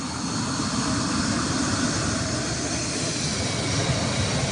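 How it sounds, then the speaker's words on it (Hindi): An F-16 fighter jet landing on a highway, heard as a steady, loud, broadband jet engine roar that holds constant throughout with no voices. "ये तस्वीरें हम आपको दिखा रहे हैं हाईवे पर कैसे F-16 विमान को उतारा गया है"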